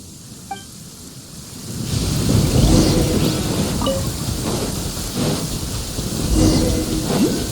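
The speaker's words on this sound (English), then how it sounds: "Uh-oh! Lightning storm!" Heavy rain pours steadily in a Genshin Impact lightning storm, with deep rolling thunder swelling in from about two seconds and rumbling on through the rest, loud and close, with no one talking.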